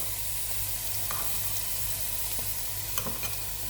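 Crushed garlic and ginger frying in a pan, a steady close sizzle throughout with a few light clinks of stirring near the end.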